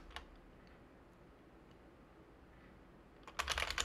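Quiet, close clicks of a computer keyboard as a terminal command is typed, a few isolated taps near the start and then a quick burst of keystrokes at the end.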